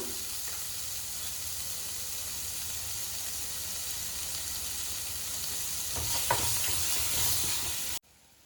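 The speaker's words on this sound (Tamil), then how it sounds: "தக்காளி நல்லா கிளறி விட்டுக்கலாம்" Tomatoes are stirred and sautéed in a pan for mutton chukka, giving a loud, dense, steady sizzle that swells with stirring near the end before cutting off.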